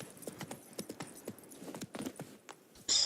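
Horse hooves clip-clop at a trot in the video game Witcher 3, a quick, irregular run of crisp hoof strikes heard up close with no talk over them.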